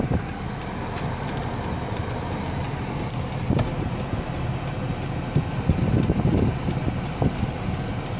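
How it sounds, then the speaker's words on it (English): Air conditioning blows inside a low-mileage Toyota Solara car. A steady airy fan rush runs throughout, with faint clicks and small knocks scattered over it and no talking. "Hear the AC blow."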